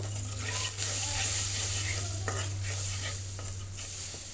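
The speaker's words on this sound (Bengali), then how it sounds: "তো আমি একসাথে দিয়েই কষিয়ে নিব তরকারিগুলো" Vegetables with turmeric, chili powder and salt stir-fry together in a pan alongside green tomatoes and dried fish, a loud steady sizzle over a low hum with repeated scraping stirs.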